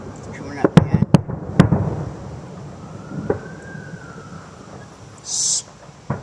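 Fireworks go off outdoors with a few sharp, loud cracks early on, followed by a thin rising whistle and a brief hiss, while people talk in the background.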